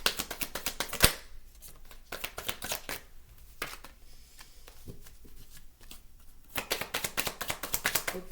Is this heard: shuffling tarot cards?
yes